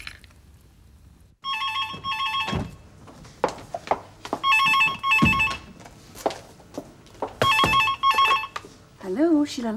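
An old landline telephone in a home rings three times with a double electronic trill, loud and close, while people talk between the rings.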